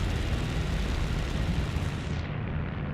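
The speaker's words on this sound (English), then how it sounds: "nice little bombing run" Explosions from a bombing run in the War Thunder aircraft combat game form a loud, sustained rumbling roar that stays dense and steady throughout, with no talking.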